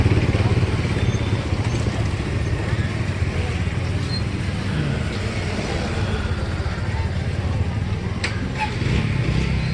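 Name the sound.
motorcycles in Kathmandu street traffic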